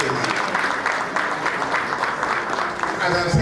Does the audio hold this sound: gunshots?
no